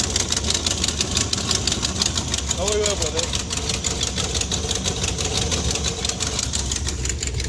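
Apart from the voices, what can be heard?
old muscle car 383 engine idling with exhaust leak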